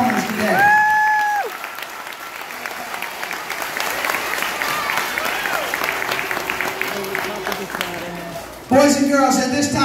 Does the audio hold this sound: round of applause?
yes